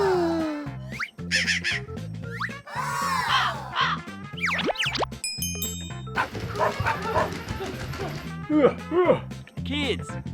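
Dogs barking and yipping in a busy children's cartoon scene, repeated short close barks mixed with music and sound effects, with voices talking over them.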